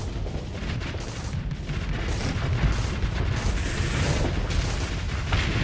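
Small missiles launching in the Starsector space game, a dense run of sharp bursts and booms over a steady rumbling bed, loud and continuous without talk.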